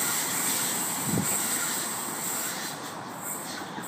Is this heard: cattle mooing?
no